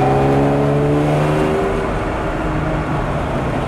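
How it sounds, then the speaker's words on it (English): A loud Ferrari 250 GTO restomod engine roars steadily with strong intake and exhaust noise through four tailpipes, its revs shifting slightly, close and continuous with no talk. "it's very loud, especially the induction noise and those four shotgun tailpipes"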